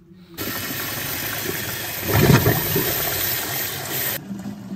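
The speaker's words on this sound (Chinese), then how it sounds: "听一下上水的声音" Water rushing into a wall-hung toilet cistern fed by a short flexible hose, a steady hissing flow that swells briefly midway and then cuts off abruptly near the end.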